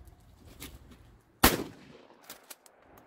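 An Ithaca Model 37 Featherlite 12 gauge pump shotgun fires a single sharp blast at a clay target outdoors. The shot is sudden and loud against quiet surroundings, then a fading echo and a few faint knocks follow.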